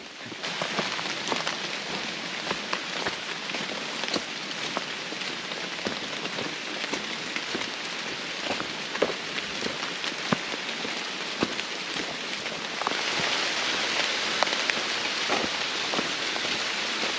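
Torrential rain pours steadily onto a wet, plant-lined hiking trail on the Appalachian Trail, a dense, continuous hiss of drops drumming on surfaces up close, with no voices, swelling slightly louder toward the end.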